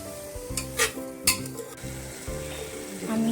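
Grated carrot is stirred with sugar in a hot sizzling pan for gajar laddu: a soft continuous sizzle runs under repeated scraping and clinking spoon strokes against the pan, close and moderately quiet.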